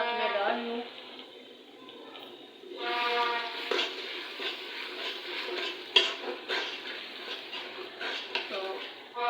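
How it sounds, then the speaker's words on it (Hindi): Meat being stirred and fried with spices in a pot for a chicken and chana dal stew, giving a steady close scraping and soft sizzle with occasional spoon knocks against the pot while someone talks over it. "तो अब मैं इनको अच्छी तरह भूनूंगी"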